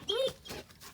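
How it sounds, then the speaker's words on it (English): A dog named Zeus lets out a short, high, nasal whimper close by, then a softer breathy whine trails after it, alone with no talking. "I apologize for the dog."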